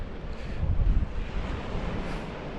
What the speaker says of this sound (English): Bit of waves crashing in the background